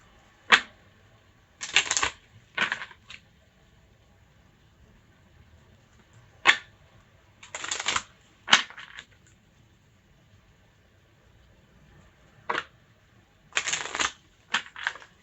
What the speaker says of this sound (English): while I was shuffling the cards like this